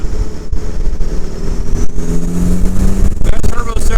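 A turbocharged Suzuki Samurai engine runs loudly and close by, with a rough, rumbling idle and a steady whine from the turbo, while people talk nearby.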